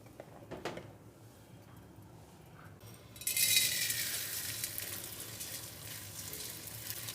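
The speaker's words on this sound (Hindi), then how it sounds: "अब इसमें थोड़ा थोड़ा सा घी डाल के हम गोंद भी थोड़ी थोड़ी सी डाल के फ्राई करेंगे।" Edible gum (gond) frying in ghee, starting with faint clinks and handling, then a sudden bright sizzle that holds steady and close for several seconds, with no talking.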